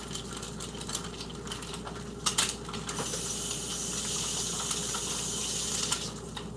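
An egg being cooked over hard in a pan for a breakfast bagel sandwich gives a steady, faint sizzle and hiss, with a brief clatter partway through and no talking.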